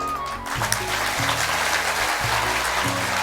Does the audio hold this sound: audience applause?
yes